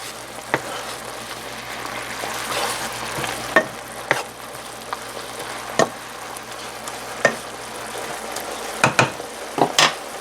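Garlic fries in a pan while being stirred around, a constant soft sizzle with sharp spatula clicks and scrapes against the pan at irregular moments, near and unaccompanied by talk.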